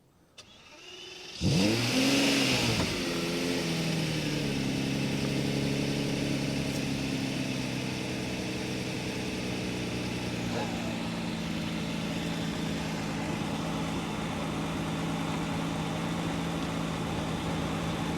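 A 2004 Lamborghini Murcielago engine starts and revs hard, then settles into a steady, loud mid-pitched drone as the car pulls away and keeps running.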